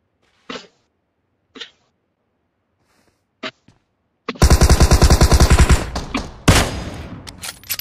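A few faint isolated clicks give way to a loud, rapid automatic burst of PUBG Mobile gunfire, followed by a couple of heavy trailing shots.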